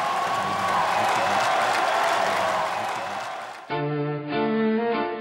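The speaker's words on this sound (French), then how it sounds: "vous entendez la foule qui appelle Chirac au balcon" A large crowd of supporters on avenue d'Iéna in Paris calls out and applauds Jacques Chirac at a balcony, a dense roar of voices and clapping that cuts abruptly to a few seconds of bright sustained music.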